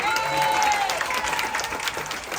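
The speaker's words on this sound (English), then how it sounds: "y'all clap it up for Sharon" An audience aboard the Carnival Radiance cruise ship claps for a guest, a short burst of dense, fairly close applause that holds steady, with voices faintly mixed in.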